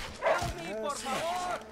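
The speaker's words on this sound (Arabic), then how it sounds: "يهجمون عليه الكلاب" Dogs attack in the video game Red Dead Redemption 2, yipping and whimpering in quick, close bursts while someone talks over them.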